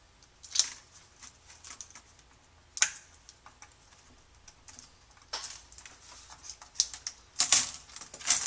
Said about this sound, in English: And we do need a keyboard to interact. So we're going to plug that in.